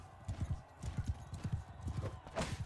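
Horse hooves clip-clop at a quick, uneven gait in the video game Harald Hardrada, with a whinny near the end and faint game sounds behind.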